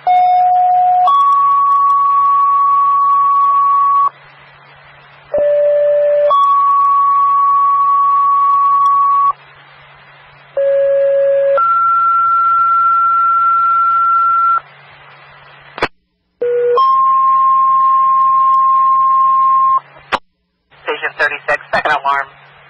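Fire department dispatch alert tones for a second-alarm structure fire: a series of loud, sustained two-tone radio tones in stepped pairs over a steady low radio hum, ending in short bursts of static and clicks.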